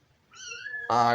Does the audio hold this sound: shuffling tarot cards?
no